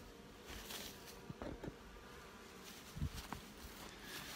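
Honey bees hum and buzz faintly and continuously at an open hive while the colony's frames are inspected, with a few soft knocks and rustles in the mix.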